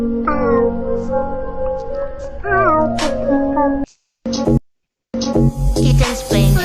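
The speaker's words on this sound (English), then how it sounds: "Kittens playing happily together." Kittens meowing, with several high, wavering mews close by, loud and overlapping, broken by a couple of brief silent gaps.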